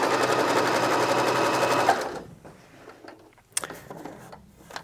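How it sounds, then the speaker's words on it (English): A sewing machine stitching fabric, a fast, steady mechanical whirring chatter for about two seconds that then stops, followed by faint handling noises and a sharp click, no voices. "Start sewing."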